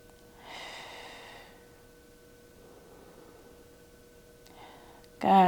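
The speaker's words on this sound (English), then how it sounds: "Taking a few deep breaths" Deep breathing during a Pilates reformer stretch: one long, soft breath of about a second, a fainter one later, then a sharper loud burst at the very end, with no talk.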